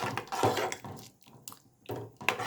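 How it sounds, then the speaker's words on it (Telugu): Water splashes and pours into a pot of cooking red lentils for a tomato dal, coming in a few separate bursts with dripping and light pot clatter between them. "కొంచెం వాటర్ తగ్గి మళ్ళీ కొంచెం వాటర్ పోసుకోవాలి"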